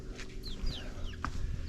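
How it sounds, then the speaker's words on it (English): Small chickens clucking and chirping around a tea house on a Nepal trekking route, several soft close calls over a steady low outdoor hum. "we've got all these little chickens"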